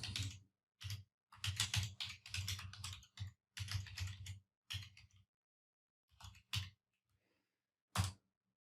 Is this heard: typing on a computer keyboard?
yes